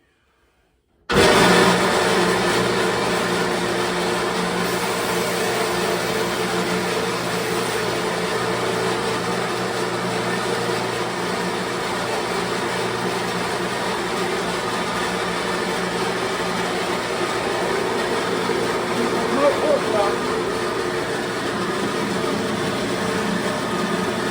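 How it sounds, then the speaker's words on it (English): A loud, steady mechanical whine of a power saw cutting smoked pork, running continuously and droning with a constant motor hum from start to finish after a brief silent moment. "overlook this saw, it's a little loud"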